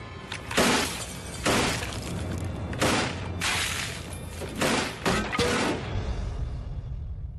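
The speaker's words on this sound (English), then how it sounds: "I'm hearing glass breaking." Glass shatters in a series of loud crashing bursts with sharp breaking debris, several impacts in succession over a few seconds, then trailing off.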